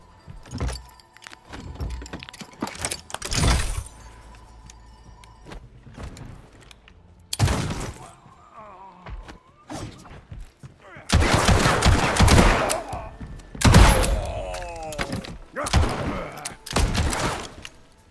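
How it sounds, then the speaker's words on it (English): Black powder pistol shots in an open-world survival video game sound as loud, booming bursts, and several blasts land across the stretch. They come amid other game noise, with brief quieter gaps between them. "I'm using black powder pistol."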